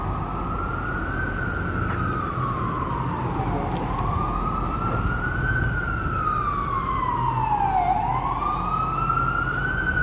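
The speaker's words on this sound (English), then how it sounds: "Sirens, yay." A wailing emergency siren rises and falls in long sweeps on a busy New York City street, loud and steady over constant traffic rumble for the whole stretch.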